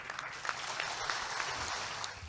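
A crowd at a Tamil debate claps to welcome a speaker to the stage, a moderately loud, even stretch of applause with brief low murmurs beneath it.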